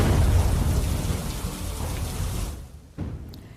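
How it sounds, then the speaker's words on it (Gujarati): Heavy monsoon rain pours down over villages in Sihor taluka, Bhavnagar, a dense loud roar of falling water with low rumble, thinning abruptly near the end before a brief final burst. "સિંહોર તાલુકાના ટાણા, વરલ, કનાડ, કાજાવદર ગામે વરસાદ ખાબક્યો."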